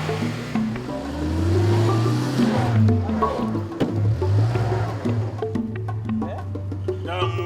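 An off-road vehicle stuck in sand revs its engine, loud rising and falling drones that swell and drop several times, ending in rougher, choppier bursts.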